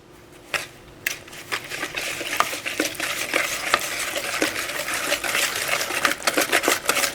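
Oatmeal chocolate snack bar batter with sugar is whisked in a bowl, producing quick, irregular clinking and scraping taps close by that grow busier toward the end, with no talk.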